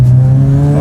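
A single-turbo Mazda RX-7 making about 500 horsepower at the wheels builds boost, its rotary engine giving a loud, steady droning tone that rises slightly in pitch over a brief moment, close and without talk.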